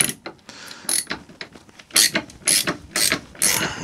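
A ratchet loosens bolts on a Simson Schwalbe M500 engine with a run of close, sharp clicking strokes in uneven bursts, each pull a quick rattle of the pawl, and no one talking.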